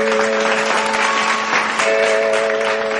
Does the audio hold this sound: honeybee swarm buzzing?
no